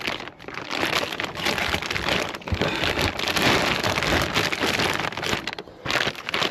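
A large sealed plastic bag around a car battery for a Mercedes GL320 4MATIC is pulled open, giving a dense, continuous crinkling and crackling of plastic up close, fairly loud throughout with no voices.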